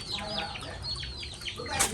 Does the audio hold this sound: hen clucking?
yes